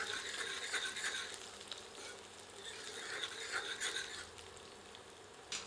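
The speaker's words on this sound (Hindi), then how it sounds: "धीमी आंच पर अदरक को 1 मिनट के लिए भूनते हैं।" Finely chopped ginger fries on low heat for a saag dish, giving a soft, steady sizzle that swells and eases now and then as it is stirred, with no talk over it.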